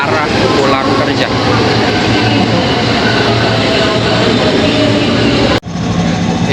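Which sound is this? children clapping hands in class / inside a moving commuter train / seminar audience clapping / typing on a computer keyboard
inside a moving commuter train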